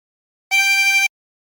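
One blown note from hole 13 of a 24-hole tremolo harmonica, a clear reedy tone with gentle beating waver, held about half a second between silences, close and solo.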